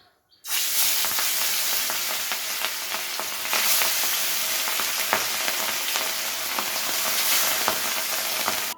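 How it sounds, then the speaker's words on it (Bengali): Katla fish pieces fry in smoking-hot mustard oil, a loud, steady sizzle with crackling pops that starts abruptly after a brief quiet moment and holds strong throughout, with no talk. "তেলটা যখন এরকম ধোয়া ওঠা গরম হবে, তখন কিন্তু মাছগুলোকে দিয়ে দিতে হবে তেলের মধ্যে"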